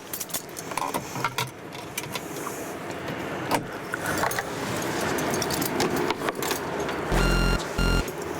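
Keys jangle loudly in a car used for the commute to work in Dubai, with repeated metallic rattles and clicks, followed near the end by a few steady electronic chimes from the car.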